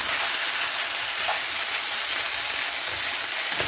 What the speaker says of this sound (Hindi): इसको अच्छी तरह से भून लेंगे।